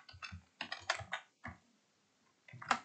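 Fingers clatter on a computer keyboard during a Minecraft server session, close and crisp, in irregular bursts of rapid keystrokes separated by a brief pause before a final flurry.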